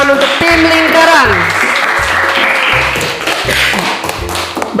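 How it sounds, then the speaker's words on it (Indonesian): Students at a primary school maths quiz clap for a team, a steady wash of clapping under rhythmic taps and thumps with music playing and a voice talking over it. "silakan beri tepuk tangan untuk tim lingkaran."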